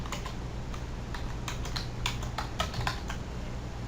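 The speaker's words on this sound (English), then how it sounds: "I'll type that for you." Fingers typing on a computer keyboard in quick, uneven bursts of light clicks, close and fairly clear above a steady background hiss, with no voices.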